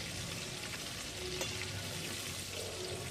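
Chicken pieces frying in hot oil in a home kitchen for chicken kosha, a steady dense sizzle that fills the whole stretch at an even, close level.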